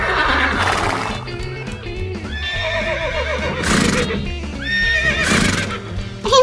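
A horse whinnies several times in long, wavering neighs over a steady clip-clop of hooves, loud and close, with no talk.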